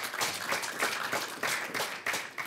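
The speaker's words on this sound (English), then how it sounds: "So if I could just please ask for a round of applause" An audience clapping at a 2020 air and missile defender of the year awards event, a brief, moderately faint patter of applause from a small crowd, continuous throughout.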